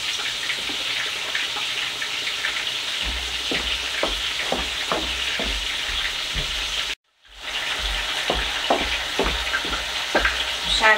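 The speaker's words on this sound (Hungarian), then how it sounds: "Egy picit pirítom." Vegetables frying in hot oil in a pan, with a steady crackling sizzle broken by repeated stirring scrapes and a brief gap near the end before the sizzling resumes.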